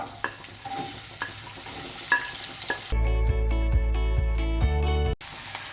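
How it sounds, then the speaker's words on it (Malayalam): Chopped onions drop into hot oil for egg bhurji and fry over a high flame, a loud steady sizzle joined by sharp clatters of stirring, with no talking. "ഇനി ഇതിലേക്ക് ചോപ്പ് ചെയ്ത് വെച്ച സവാള ഇട്ട് കൊടുക്കാം"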